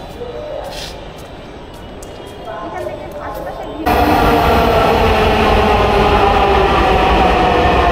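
A Dhaka metro train roars in abruptly and loudly partway through, a steady rumbling rush continuing to the end, after a quieter stretch with faint voices on the station platform.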